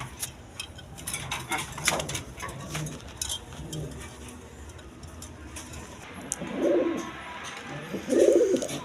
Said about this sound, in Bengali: ঝর্ণা শাড়িং কবুতর দেখার মতো কবুতর, কোয়ালিটি সম্পন্ন কবুতর